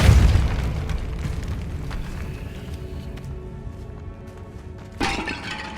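The Depulso force spell is cast in the Hogwarts Legacy video game, opening with a deep booming impact that rumbles and decays for several seconds before a second sharp, bright burst near the end.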